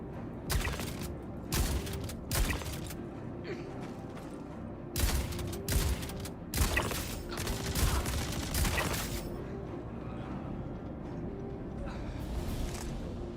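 Bursts of gunfire in the space game Star Citizen, loud sharp volleys repeating in clusters over a steady mechanical hum, fading to a low drone near the end.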